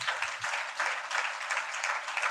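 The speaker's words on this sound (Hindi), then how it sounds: "जोरदार ताली बजाओ परमेश्वर" An audience at a Christian worship gathering claps loudly in steady, pulsing waves, close and sustained.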